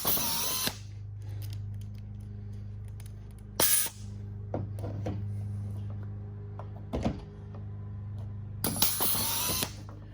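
Pop Pro rivnut tool setting M5 rivnuts for Datsun 280ZX mirror mounts: a steady low motor hum with several sharp mechanical bursts and clicks as each nut is pulled tight, plus quieter handling noises between.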